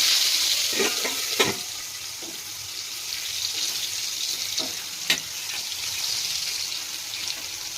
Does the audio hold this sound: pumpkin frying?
yes